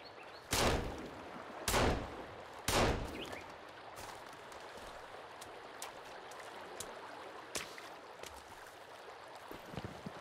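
Three loud, evenly spaced gunshots ring out in the survival game Sons of the Forest, followed by a few fainter distant shots over a soft outdoor ambience.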